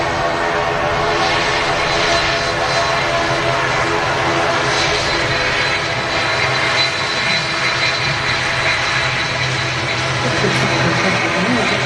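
A Loganair airliner passes at Manchester Airport, its jet engine noise a continuous, fairly loud roar with a faint tonal whine riding on top, sustained evenly from start to finish.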